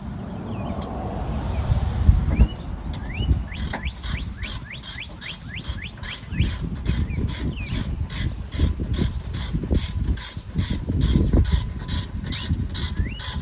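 A ratchet tightens the brake caliper bolts on a 2016 Toyota RAV4, with a long run of quick, even clicks close by after some earlier handling noises.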